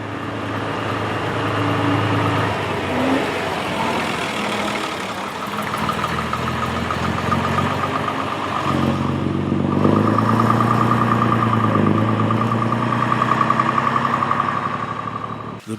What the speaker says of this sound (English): This former Southdown single-decker makes its exit.